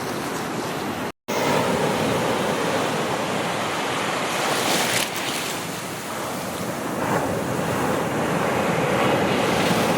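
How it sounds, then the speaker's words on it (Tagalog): Steady roar of ocean waves and surf at Patar beach in Bolinao, with strong wind buffeting the microphone, continuous and loud apart from a brief dropout near the start. "Wow, dagat."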